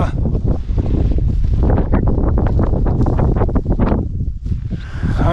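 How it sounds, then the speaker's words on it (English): Relentless wind buffets the microphone in gusty, roaring surges on the Continental Divide in winter in Montana and Idaho, loud and close with no pauses. "the wind has been non-stop"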